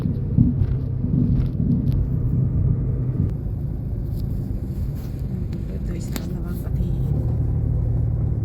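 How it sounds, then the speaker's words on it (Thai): An international passenger bus passes on a road in Savannakhet, Laos, a loud low rumble that swells and fades while talk goes on over it. "อันนี้คือรถโดยสารระหว่างประเทศ ผ่านมาแล้ว"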